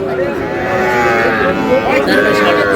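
Loud, drawn-out mooing of cattle close by, overlapping calls with a busy crowd murmuring in the background.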